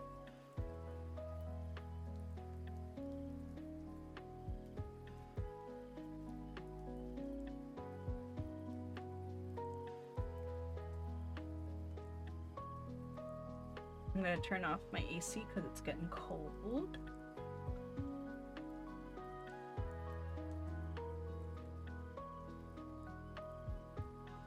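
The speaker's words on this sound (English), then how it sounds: "Let's turn the rain down a little." Steady soft rainfall patters on a surface by a bay window in the cozy game Spirit City: Lofi Sessions, alongside mellow lofi music, while a person talks over it.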